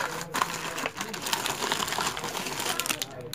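Sewing machine running by pedal: rapid, even mechanical clatter throughout at moderate volume, with a voice speaking over it.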